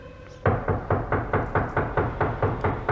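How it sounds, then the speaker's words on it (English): Firm knocking on a door in a 1978 staging of Macbeth, a steady run of about ten evenly spaced, hollow thumps, close and loud, following a quiet moment. "Open locks, whoever knocks."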